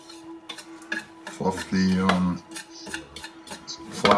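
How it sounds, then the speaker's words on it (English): A whisk beats banana blueberry muffin batter in a bowl, producing clattering taps and scraping swirls with a louder stretch midway, while a person talks intermittently over it. "I found my whisk. So we're gonna whisk this."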